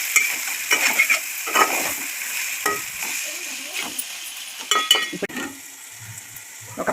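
Chicken pieces sizzling in hot oil in a pan as they are turned, with scraping stirs and light clinks of the spatula, and a brief spoken word near the start.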